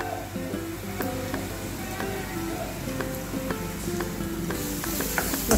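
Turmeric and a pinch of hing are stirred in hot oil, a soft continuous sizzle with light tapping strokes, faint and close, over quiet background music.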